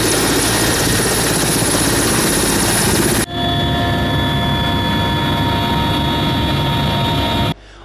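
A tour helicopter roars steadily and loudly overhead in Manisa, Turkey, its broadband engine and rotor noise filling the whole clip with a brief shift in tone midway.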